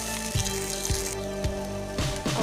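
Small parathas made from leftover roti frying in oil on a tawa, a steady bright sizzle with a few soft rhythmic taps or pats spaced through it, close and continuous.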